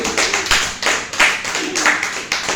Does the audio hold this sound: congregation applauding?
yes